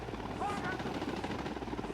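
A helicopter in the video game Ghost Recon Wildlands thrums with a steady, loud rotor chop that rolls on throughout, with faint voices under it.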